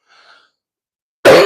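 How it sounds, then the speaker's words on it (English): One sharp, loud cough erupts abruptly at the end after near silence, close to the microphone, with only a faint soft sound before it. "I really do apologize for the cough"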